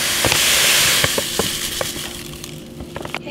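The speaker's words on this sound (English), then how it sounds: "Let's go ahead and add the rest of the sugar." Sugar being stirred into boiling water in a pan, 5 pounds of sugar to 2.5 quarts of water, for feeding honey bees: a steady hiss of bubbling with scattered clicks and small scraping taps, close by and no talking.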